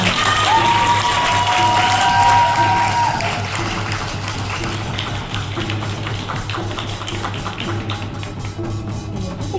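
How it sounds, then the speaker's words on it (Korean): Audience applause at an award ceremony for a traditional Korean music (gugak) youth talent competition, a steady wash of clapping over a sustained tone and room noise that thins out partway through. "여러분 축하의 박수 부탁드립니다."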